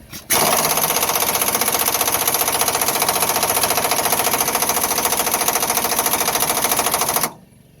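An air impact wrench hammers on a rear leaf spring bolt of a 2001 Ford F250 Super Duty, one loud, continuous rattling burst close by that lasts about seven seconds, then cuts off sharply.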